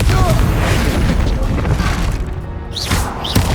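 A Confringo fire-blast spell explodes in Hogwarts Legacy, a loud boom over busy combat noise, followed by short whooshing effects near the end.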